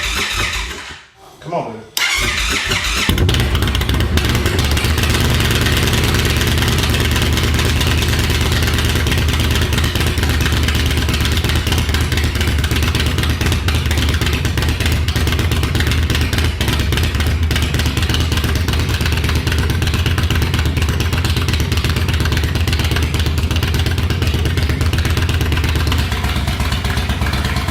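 An Indian Thunderstroke 116 motorcycle engine with a new performance cam cranks and catches, then runs at a loud, steady, rough idle close by for the rest of the stretch, with a brief spoken remark near the start.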